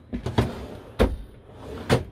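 A kitchen drawer in a Bürstner Lyseo TD Harmony Line 644g motorhome slides open, giving a few short clunks and rattles at close range with no talk over them.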